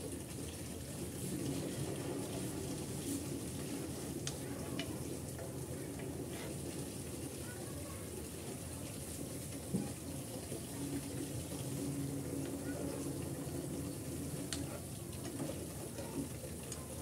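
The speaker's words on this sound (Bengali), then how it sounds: "খুরমাগুলো চুলার জালটা একেবারে লো টু মিডিয়ামে রেখে তারপর ভেজে নিতে হবে" Khurma sweets frying in oil over low-medium heat, a steady soft sizzle with occasional stirring clinks running throughout, moderately close and fairly quiet.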